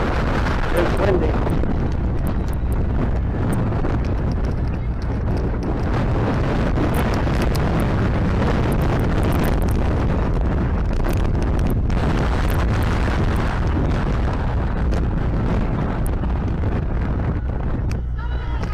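Wind on Lake Mead during a paddle boat ride, a loud, constant roar buffeting the microphone for the whole stretch, with water and boat motion beneath and muffled voices now and then.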